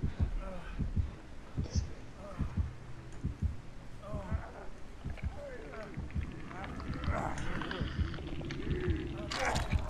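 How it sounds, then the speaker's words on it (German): The pulsing heartbeat effect from the video game Dead by Daylight throbs low and steady through the scene, under game noise and German voices talking. "Ich habe Herzklopfen. Der ist bei mir in der Nähe."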